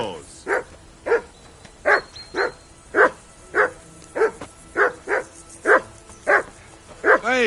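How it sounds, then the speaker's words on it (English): Steady, regularly spaced barking from a dog in Kingdom Come: Deliverance II, about a dozen close, loud barks over a faint background murmur. "Whistle at that mutt of yours to stop barking."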